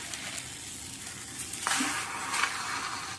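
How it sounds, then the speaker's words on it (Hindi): Spinach leaves cook in a pan over a gas flame, giving a faint, steady sizzle with a few soft stirring touches. "उसके लिए हमने यहाँ पर गैस के ऊपर एक पैन रख दिया है और उसमें हम पालक के पत्ते ऐसे डाल देंगे"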